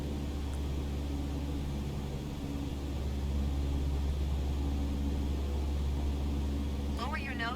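Steady aircraft engine drone at half throttle in Microsoft Flight Simulator 2020, a constant low hum at moderate level that holds unchanged throughout, with a brief electronic chirp near the end.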